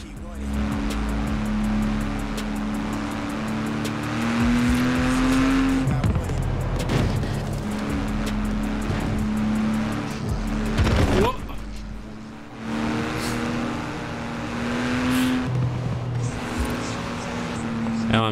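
Cars driving together in a Forza Horizon 4 car meet, steady engine drones shifting in pitch with occasional tire squeal and passing vehicles, heard under continuous talking.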